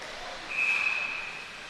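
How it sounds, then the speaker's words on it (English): A referee's whistle at a 2021 boys' high school ice hockey game between Jefferson and Minnetonka gives one steady, shrill blast lasting under a second over a constant arena background. "we're going to get a quick whistle here"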